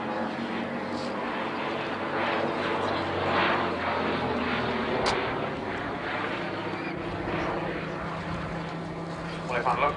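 A vintage Gloster Gladiator biplane from the Shuttleworth Collection flies a stall turn at an airshow, its engine a moderate, distant drone that swells and fades slightly, with a commentator talking over it.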